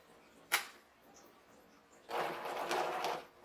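A sewing machine back stitches briefly on a fabric drool pad, a sharp click followed by a short steady whirring run of stitches, close and soft.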